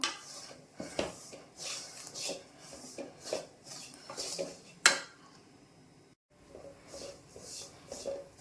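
Ground bread crumbs roasting in a pan over medium heat, stirred in rhythmic scraping strokes with a spoon, close and fairly soft, with an occasional sharper clink on the pan.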